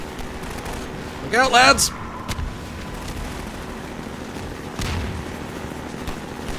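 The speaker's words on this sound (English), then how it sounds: "Don't be shooting them little rockets at me now." Rockets launched and bursting in Half-Life 2, with a short blast and a crackly burst near 1.5 seconds and a duller thud later, all under steady game ambience. A man calls out between the sounds.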